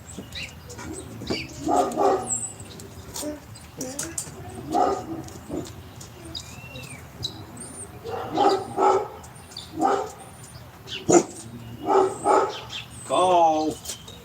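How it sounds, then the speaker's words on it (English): Several dogs bark repeatedly in clusters, moderately close, with some yips and a whimper, while a person speaks intermittently. "here we go again with these dogs"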